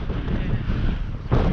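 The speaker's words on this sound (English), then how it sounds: "it's a bit windy now, isn't it?" Gusty wind rumbles and buffets the microphone while walking out into an open stretch of park, a steady low roar that swells again near the end.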